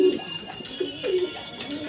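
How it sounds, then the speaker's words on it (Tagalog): Pigeons cooing close by, several soft low coos repeating in short phrases alongside a faint steady background hum. "Ito mga kalapatids."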